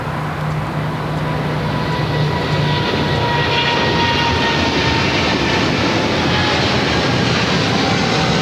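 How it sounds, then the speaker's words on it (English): A Boeing 777 freighter jet takes off on runway 25 left at LAX, its engines producing a loud, steady roar that builds and holds throughout without any talk. "At that 777 freighter heading to Miami, Flight 5302, rolling down"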